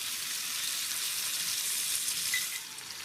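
Carrots frying in grapeseed oil with sugar and molasses, a steady bright sizzle that holds close and even throughout, easing slightly at the end.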